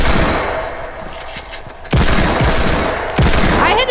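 Sharp gunshots from a first-person shooter video game, landing as a headshot, come in two loud separate bursts with dense rattling fire between them and no talking.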